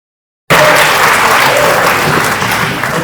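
An audience at a Bihar Diwas stage event bursts into loud, sustained applause after a half-second of silence, dense clapping continuing steadily to the end.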